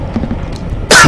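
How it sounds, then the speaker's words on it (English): A single loud, close cough bursts out at the end after quiet low rumbling, heard alone with no talk over it. "this cough has gotta go away"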